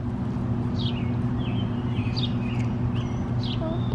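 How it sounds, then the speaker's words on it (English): Birds chirp outdoors in short, scattered tweets above a steady low rumble of background hum, moderately distant and without talking. "There's a bird."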